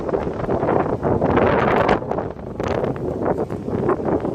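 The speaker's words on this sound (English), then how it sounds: "if the wind would like to stop" Wind buffets a microphone beside a railway line, producing a loud, continuous low rumble that surges and dips unevenly throughout, with no voices.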